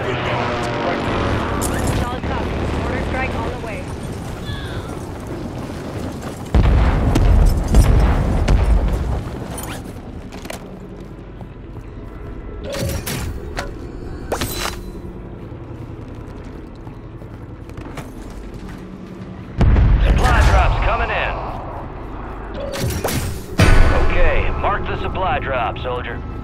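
Heavy explosions from an air strike and an artillery fire mission in the Warzone video game, booming blasts arriving in loud surges with crackling impacts between them, while radio-style voices talk over the battle.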